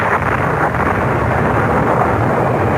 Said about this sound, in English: a tropical storm broke, and huge waves lashed at the shore below us.